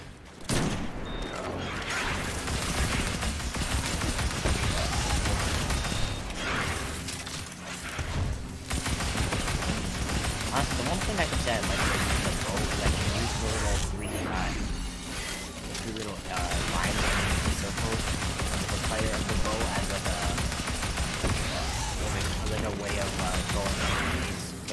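Sustained gunfire at a boss in Destiny's Hollowed Lair Grandmaster run, with dense overlapping volleys, mechanical clatter and occasional impacts, broken by brief lulls, as players call out to each other over it.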